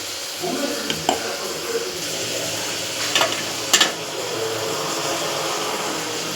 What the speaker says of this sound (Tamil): இப்போ தக்காளி முக்கால் வேக்காடு வந்திருக்கு இது வதங்கினா போதும்